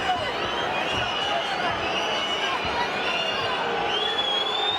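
Boxing arena crowd reacting to a slow round in a 2001 Roy Jones Jr. fight, a continuous murmur with whistles and calls spread across the hall, commentators talking over it.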